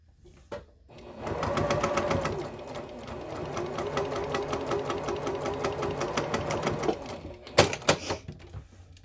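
A sewing machine stitches a pleated fabric face mask in a fast, steady mechanical run of needle strokes lasting several seconds, with a few short clicks and bursts at the end.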